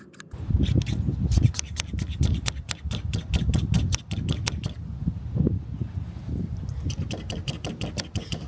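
Rubber suction cups of a 360 camera mount are pumped onto a Mustang GT, making rapid bursts of sharp clicking and squeaky rubbing strokes in quick rhythmic runs, close up, with a pause midway.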